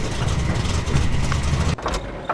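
A truck engine idles in a video game, a steady low rumble that holds for under two seconds and then drops abruptly as it cuts off, leaving a quieter tail.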